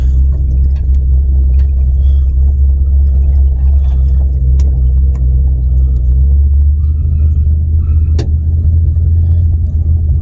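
An old farm truck with a sticking choke and no power steering drives along, its engine a loud, steady low rumble that fills the cab with little change.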